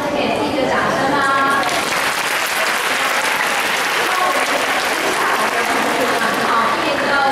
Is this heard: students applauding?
yes